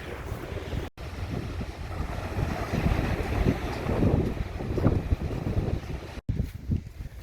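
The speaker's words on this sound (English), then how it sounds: "I'm sorry about the wind." Strong coastal wind buffets the microphone in a constant roar on a fossil walk near Kettleness, with surf-like rushing beneath it and two sudden dropouts.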